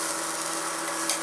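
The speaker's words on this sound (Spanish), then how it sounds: "Y vamos a esperar a que se nos dore el ajo" Garlic frying in a pan for Mexican green bean fritters, a steady close hiss and sizzle with a brief crackle near the end.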